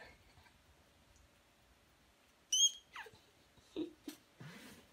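A small puppy indoors lets out a few short, high squeaks and whimpers in quick bursts over faint background hiss. There is a bit of quiet handling noise, and no one speaks.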